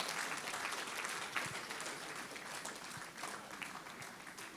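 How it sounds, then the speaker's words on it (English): Sustained audience applause at a university's 60th anniversary ceremony in Lagos, Nigeria, dense steady clapping from a large crowd filling the hall, holding at an even level without a break. "The Pro-Chancellor deserves a better applause,"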